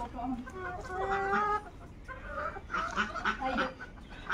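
Chickens clucking on a native duck and chicken farm, a close, steady run of clucks and calls with brief pauses and some mixed voices in the background.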